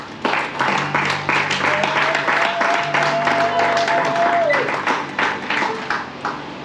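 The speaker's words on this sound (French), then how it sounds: "Est-ce qu'on peut acclamer pour la parole?" Church congregation clapping in a steady rhythm and cheering, with a sustained tone under the applause and a preacher's voice speaking over it.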